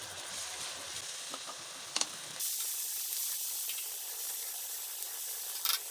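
Ground tomato and onion masala fries on a high flame for restaurant-style chicken changezi, a soft steady hiss with faint sputters and a couple of brief clicks.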